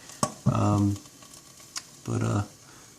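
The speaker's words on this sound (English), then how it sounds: "you can hear them popping and sizzling and whatnot in there" Poblano peppers roasting, giving off a few sharp, sparse pops over a faint sizzle, while someone talks in between.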